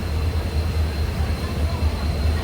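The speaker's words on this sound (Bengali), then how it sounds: "আর এই যে ট্রেন আমাদের অবশেষে ছাড়ল কাঞ্চনকন্যা" Kanchankanya express train departing, heard from inside as a steady low rumble and hum of the moving carriage, continuous and close with no distinct clacks.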